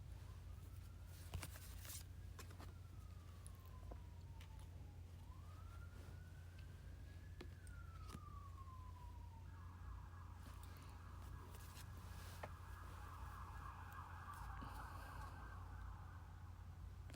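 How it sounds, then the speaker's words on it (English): A police siren wails in the distance, rising and falling through several slow sweeps before switching to a faster warbling pattern, faint over a steady low hum. "there was just a long ass police siren going on just then"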